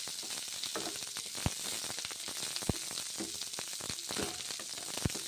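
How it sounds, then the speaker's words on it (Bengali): Onions fry in hot oil on a low flame for a Bengali morola fish curry, a steady soft sizzle with occasional sharp pops and crackles, fairly quiet and close, with no voices. "পেঁয়াজগুলো ভেজে নিচ্ছি"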